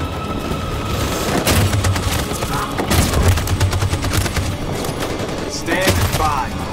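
Machine gun fire in the video game Detroit Become Human, loud close bursts of rapid shots with heavy booms and thuds mixed into a chaotic battle din, punctuated by repeated impacts.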